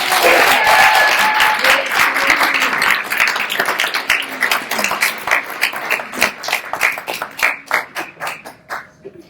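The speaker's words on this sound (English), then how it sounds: "Round of applause for Chloe." An audience at a poetry celebration for San Mateo County's poet laureate breaks into loud, full applause that gradually thins out into scattered individual claps before dying away.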